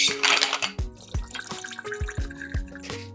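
Water splashing and dripping from a tap into a cooking pot being filled to boil homemade gnocchi, a run of distinct plopping drips and trickles in an irregular rhythm, close and fairly quiet, with no voices.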